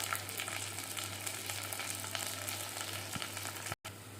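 Thinly sliced garlic, curry leaves and dried red chilies frying in oil with a pinch of asafoetida, a soft, steady sizzle close by, briefly cut off near the end, with a faint low hum underneath.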